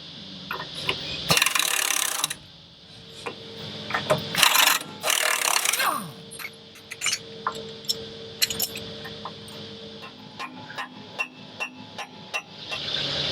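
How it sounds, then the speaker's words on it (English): Nuts rattled off bolts with a wrench and 24mm socket on a boat on the hardstand: bursts of fast ratcheting clatter between sharp metallic clicks and taps, close and loud. "So I'm going to try and just rattle the nuts off and see if there's enough sort of resistance in the shanks of the bolts"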